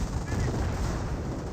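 Pak 38 anti-tank gun firing in a Company of Heroes battle against Sherman tanks, dense continuous rumbling gunfire and explosions filling the scene, loud and sustained with no clear gaps between shots.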